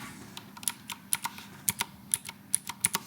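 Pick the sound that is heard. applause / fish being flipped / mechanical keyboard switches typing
mechanical keyboard switches typing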